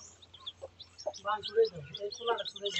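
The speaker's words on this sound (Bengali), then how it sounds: "ওদিকে মুরগি রাখা আছে আর এদিকে হাঁস" Chickens in a shared duck and chicken house give soft, intermittent clucks and chirps, close by, with people talking over them.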